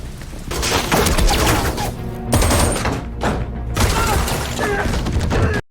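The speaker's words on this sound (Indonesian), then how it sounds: "terlibat baku tembak dengan seorang penyusup" Gunfire and thudding impacts in a shootout between intelligence agents and an intruder at a laundry in the 2022 Korean film Hunt, loud and continuous with dense bursts and crashes layered over music and effects.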